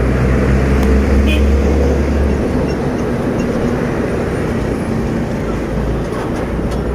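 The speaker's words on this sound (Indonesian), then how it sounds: "Yo truk sing gedene." A large truck rumbles past on a road in the MM2100 industrial estate, a loud continuous low engine drone and road noise filling the scene throughout, with no pause.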